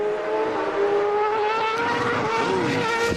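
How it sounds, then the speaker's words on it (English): A CART race car from the 2002 season slides out of a curve, its engine whining loudly with pitch sweeping and wavering as the tires lose grip, close and alone. "Out of that curve, hits the car into a big slide."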